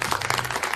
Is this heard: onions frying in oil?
no